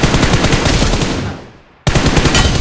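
Rapid automatic gunfire rattles from a video game in a loud, close burst that tails off, then resumes abruptly after a short gap.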